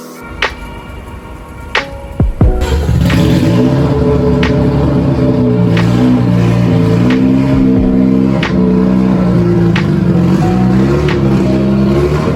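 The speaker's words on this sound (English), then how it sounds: "Now that the RX-7 is running" A Mazda RX-7 rotary engine starts after a few clicks and knocks, then idles steadily with a loud, buzzy drone close by, with no talking.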